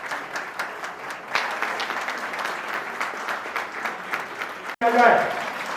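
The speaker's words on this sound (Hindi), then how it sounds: "एक बार जोरदार तालियां हो जाए" Seminar audience in a hall clapping steadily for several seconds at an education seminar, with a brief louder burst near the end.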